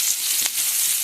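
Onions sizzle in hot oil left from frying dried fish, a close, bright, continuous crackling hiss.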